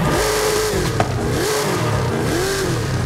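V12 Mercedes G-Wagon engine in a driving video game, revving up and down in three rising and falling sweeps, loud and close, with no talk.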